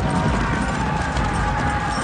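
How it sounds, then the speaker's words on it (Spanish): Cavalry horses' hooves clip-clop in a steady, loud, dense patter that fills the scene without pause, with no voices over it. "La caballería ha arribado."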